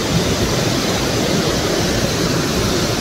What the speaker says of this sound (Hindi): तो पानी का फ्लो कितना ज़्यादा है,